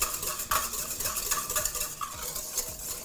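Pierogi dough being mixed by hand with salt just added in a bowl, a close, continuous rustling and scraping with a few soft knocks against the bowl, with no talking.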